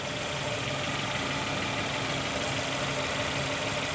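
A Nissan Almera with a QG15 engine idles with low fuel pressure and a no-power fault, making a continuous, even mechanical hum with a faint knocking texture, close and steady with no speech.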